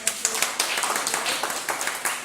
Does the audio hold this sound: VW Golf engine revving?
no